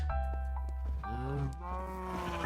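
Sheep in Minecraft bleating in a short wavering call, close and fairly clear over a low background hum, with a brief pause before a second drawn-out bleat.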